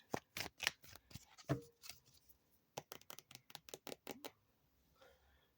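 Tarot cards are shuffled in quick riffling bursts, crisp rapid flicks in two main runs, fairly quiet and close.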